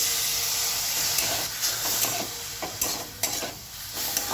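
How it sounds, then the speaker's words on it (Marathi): Grated beetroot sautéing in ghee for a beetroot and jaggery halwa, with a bowl of milk going in: a steady close sizzle and steamy hiss with scattered scraping stirs, no voices. "खिसलेलं बीट तुपामध्ये चांगलं परतून घ्यायचंय आता टाकणार आहे याच्यामध्ये दूध एक वाटी दूध टाकणार आहे"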